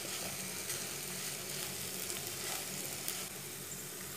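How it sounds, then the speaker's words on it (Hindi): Okra for malai bhindi frying in a pan makes a dense, continuous sizzle, close and fairly loud, with faint stirring underneath. "अच्छी तरह भून लिया 3 मिनट तक।"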